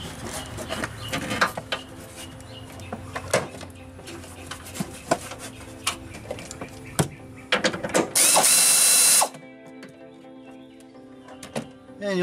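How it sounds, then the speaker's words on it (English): A hand ratchet clicks in short runs while loosening and tightening radiator bolts on a 2000 Pontiac Bonneville, close up among metallic clanks of tools, ending in a brief loud rushing burst. "And you'll have to use a ratchet or wrench."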